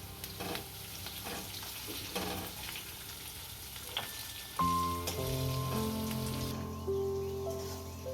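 Peanuts and other ingredients roast in oil for a farali morya khichdi, giving a soft continuous sizzle with light pops; midway a louder tonal hum joins in over the frying.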